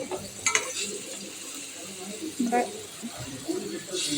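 Curry masala frying in a pan for a Pathanamthitta and Thiruvananthapuram style tuna fish curry, with a soft continuous sizzle and occasional stirring scrapes under a person talking.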